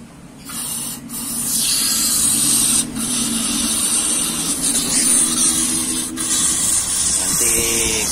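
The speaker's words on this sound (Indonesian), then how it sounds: "Nanti bekas karburator ini kita semprot biar kering." A spray can of carburetor cleaner blasts onto a Toyota Avanza carburetor to dry off the residue. The close, loud, steady hiss comes in long bursts broken by brief pauses, with no talking.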